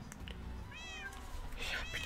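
A Minecraft cat meows twice in rising, wavering tones over a steady low game background, while someone talks quietly nearby.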